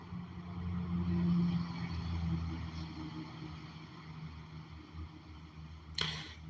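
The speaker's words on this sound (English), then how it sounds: "I'm pretty close to a road, so you're gonna hear some trucks and some cars and stuff like that passing by" Traffic from cars and trucks on a nearby road makes a low, continuous rumble that swells and fades as vehicles pass, with a brief sharp click near the end.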